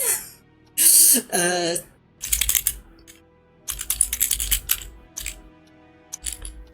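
Bursts of computer keyboard typing, clattering keystrokes in short rapid clusters separated by pauses, close and fairly loud, following a brief stretch of speech.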